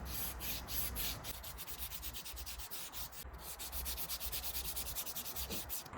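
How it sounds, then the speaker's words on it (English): Steady back-and-forth scraping of sandpaper rubbing on the hard tip of a diesel injector from a 2014 Volvo S60 D4, close up, in quick, even strokes with no voices. "get a piece of sandpaper and start sanding it just as you see in the video"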